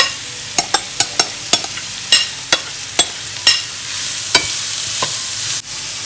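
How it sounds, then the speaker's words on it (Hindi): Onions fry in a pan while a spoon stirs them, giving a run of sharp scraping clicks and knocks over a rising bed of sizzle that swells loud in the second half before cutting off abruptly. "मैं ये जो प्याज ब्राउन करना है मैंने वो डाल दिया"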